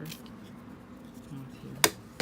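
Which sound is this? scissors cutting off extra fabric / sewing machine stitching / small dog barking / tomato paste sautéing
scissors cutting off extra fabric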